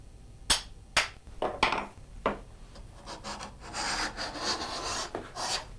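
A toothing plane drawn across wood gives a run of sharp rasping strokes, first in short separate passes and then in a longer, denser scraping stretch, heard close with no talking.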